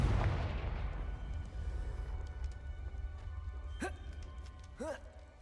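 In Hogwarts Legacy, a Confringo fire spell explodes with a loud, low boom that rumbles and fades over several seconds, followed by a couple of short, rising whooshing tones.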